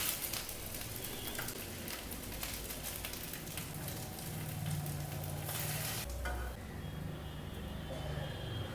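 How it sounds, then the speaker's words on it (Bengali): A second batch of pakoras deep-frying in hot oil, a thick continuous crackling sizzle that stays steady and close for several seconds, with only brief clatter and no speech. "আমি এবারে দ্বিতীয় ব্যাচেরগুলো ভেজে নেব।"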